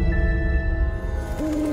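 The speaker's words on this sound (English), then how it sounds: "Be awaiting your owl." An owl hoots in the Harry Potter: Hogwarts Mystery game trailer, a short wavering call near the end over a dense, loud orchestral music bed.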